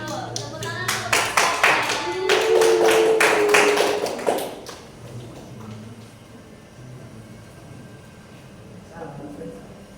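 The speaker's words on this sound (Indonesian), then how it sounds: "Tepuk tangan untuk Mbak" Classroom applause during a microteaching lesson on Islamic jurisprudence, a burst of hand clapping that swells for a few seconds then stops abruptly, followed by quieter room noise and brief talk.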